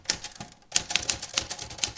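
Typewriter keys strike in quick irregular bursts, crisp close clacks with a short pause near the start before the rapid typing resumes.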